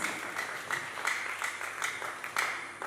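An audience applauds at a film launch in Burundi, a faint steady patter of hand claps with a few sharper bursts throughout.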